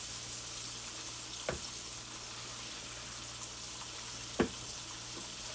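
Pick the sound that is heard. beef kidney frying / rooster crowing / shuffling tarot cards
beef kidney frying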